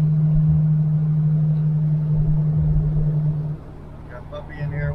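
A restored 1968 Chevelle Nomad drives along a road, its steady low engine drone and road rumble filling the cabin close-up, dipping briefly near the end as faint speech-like sounds appear.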